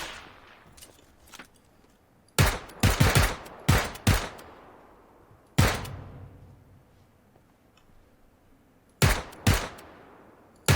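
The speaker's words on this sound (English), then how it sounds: "I tried to shoot a gas can and make it blow up" Sharp gunshots in PUBG fired at a gas can ring out in separate bursts of two or three rapid cracks with quiet gaps between them, loud and close, with no talking.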